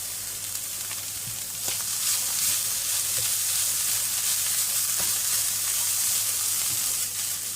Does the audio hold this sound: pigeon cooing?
no